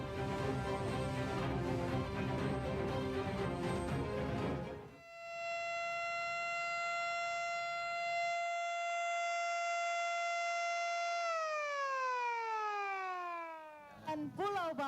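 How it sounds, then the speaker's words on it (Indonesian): A loud siren marking a bridge inauguration in Palembang holds a steady wail, then winds down in falling pitch before another siren starts; crowd noise and talk are heard at the start. "Peresmian diawali dengan bunyi sirine, tanda jembatan telah resmi dan selesai dibangun."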